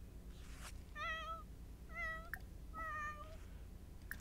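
A kitten in The Sims 4 gives three clear, separate meows about a second apart, each a short rising and falling cry heard close and alone over quiet game background.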